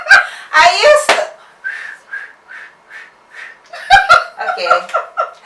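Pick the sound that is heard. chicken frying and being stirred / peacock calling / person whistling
person whistling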